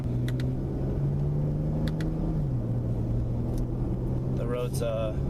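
A 2017 Chrysler 300 with an 8-speed automatic, driven in sports mode on city streets, gives a steady low engine drone whose pitch climbs and then drops as it shifts gear, with someone talking over it.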